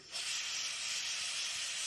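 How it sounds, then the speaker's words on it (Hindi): Pressure cooker on a stove hissing as its whistle releases steam while cooking desi chicken curry, a steady loud broadband rush that starts abruptly and holds without pause, no voices. "तो ये रहा पाँचवा सीटी हो गया है"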